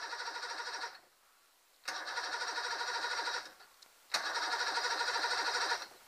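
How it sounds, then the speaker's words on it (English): Mercury 90 hp two-stroke, three-cylinder outboard motor cranking strongly in three long starter bursts separated by short pauses, a loud rhythmic whirring churn that never catches and runs. "Is starting strong, but the motor just cannot kick start."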